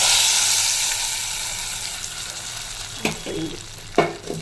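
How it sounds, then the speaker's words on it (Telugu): A tadka tempering poured into a dish sizzles loudly and close, a dense frying hiss that slowly fades, followed by a couple of sharp stirring clinks near the end. "తిరగమాత పెట్టేసి దాంట్లో వేసేస్తాను."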